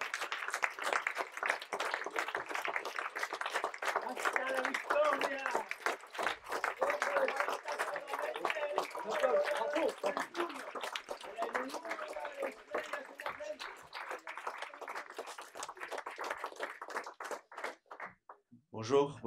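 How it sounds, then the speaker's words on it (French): A crowd at a political party's twentieth-anniversary gathering claps loudly and densely for nearly twenty seconds, with voices mixed into the ovation, before it thins out and stops. "Et je vais vous demander de forts applaudissements, s'il vous plaît."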